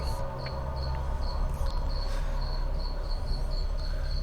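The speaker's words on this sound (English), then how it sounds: "We got the crickets as well in the background," Steady, evenly spaced cricket chirps pulse in the background over a constant low hum, continuing throughout at a moderate distance.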